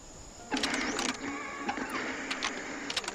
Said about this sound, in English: you need to loosen the bolts without rattling the mechamajut